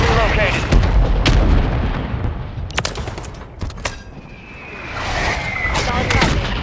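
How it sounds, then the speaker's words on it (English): Mortar strike explosions in a Call of Duty match, a dense run of booming blasts and crackling impacts over continuous battle noise, with sharp bursts clustering near the middle and a voice speaking over the action. "Mortar strike inbound now."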